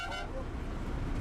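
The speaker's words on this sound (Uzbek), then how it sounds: "Shofyor qurmagur har minutda signal bosadi" A bus horn toots once at the very start, short and moderately loud, over a steady rumble of road traffic.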